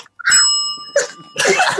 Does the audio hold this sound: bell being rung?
yes